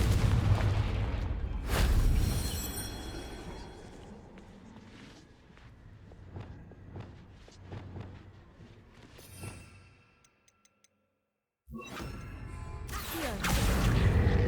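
Confringo fire spells blast in the Hogwarts Legacy video game amid combat: heavy booms at the start and end, a run of sharper impacts and footsteps between, and a brief near-silent gap before the final burst.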